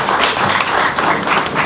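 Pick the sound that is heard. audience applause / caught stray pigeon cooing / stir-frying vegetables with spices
audience applause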